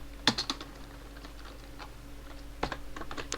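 Close, quiet clicks of a computer keyboard as code is entered, a few short clusters of keystrokes separated by pauses over a faint steady hum.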